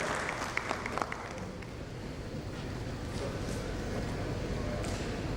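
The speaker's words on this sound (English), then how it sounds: "A big round of applause to Nishant for wonderfully moderating the panel session" An audience at an insurance industry panel event applauds the moderator, a moderate, somewhat distant round of clapping with a few sharper claps early on, settling into a steady wash of applause.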